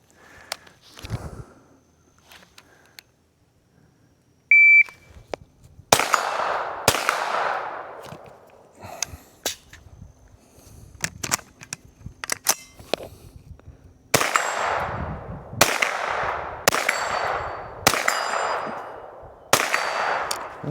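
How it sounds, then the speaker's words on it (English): A Ruger PC Carbine in 9mm fires at targets 50 yards out: after quiet handling and clicks, sharp, loud single shots crack nearby, first spaced out and then in quicker runs, each with a short ringing echo. "see how quickly I can put some rounds on the targets at 50 yards"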